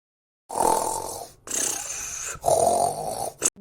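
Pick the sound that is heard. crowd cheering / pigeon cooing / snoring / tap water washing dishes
snoring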